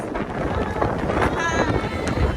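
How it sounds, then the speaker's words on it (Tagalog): Strong wind on Grass Island, Hong Kong, buffets the microphone with a steady, roaring rush, with faint background sounds underneath. "Sobrang hangin po dito."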